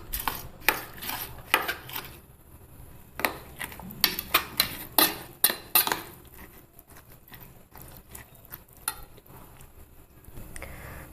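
Eggs being mixed with salt and Lays chips in a bowl for an omelette, a run of sharp clinks and scrapes of a utensil against the dish, busy at first, then quieter, irregular stirring sounds.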